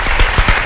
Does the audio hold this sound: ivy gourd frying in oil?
no